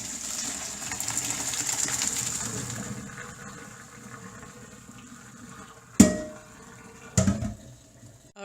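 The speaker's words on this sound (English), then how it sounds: "now that the water is drained from our noodles" Hot water from freshly cooked pasta noodles pours out through a kitchen strainer with a rushing, splashing wash that fades, followed by a couple of sharp clanks of the pot or colander near the end.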